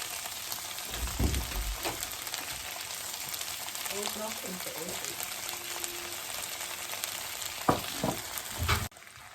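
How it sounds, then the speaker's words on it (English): Chickpeas and rice cook in a pot for coconut rice, giving a steady soft sizzle and bubbling hiss with a few clinks of a utensil, and a voice speaking faintly in the middle. "let it cook a little bit till the chickpea cooks it and gets softened"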